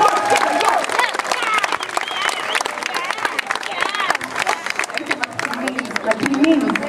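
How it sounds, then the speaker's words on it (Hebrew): An audience applauds at an end-of-year graduation ceremony, with steady dense clapping running throughout, mixed with crowd voices and chatter. "מגיעות להם מחיאות כפיים"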